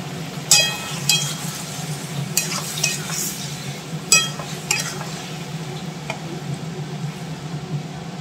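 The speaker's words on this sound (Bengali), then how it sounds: "তো দেখো মশলাটা কষাচ্ছি, তেল বেরোনো অবধি অপেক্ষা করবো" Spice paste with goat fat being sautéed in a pan, a steady low sizzle broken by a few sharp clinks and scrapes of the spatula, close up with no talking.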